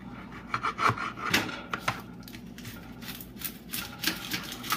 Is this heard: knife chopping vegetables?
yes